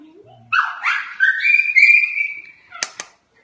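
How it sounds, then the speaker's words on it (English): Dogs at home give a drawn-out whining howl that rises in pitch, followed by two short sharp barks, all close and clear with no talking. "That's my dogs."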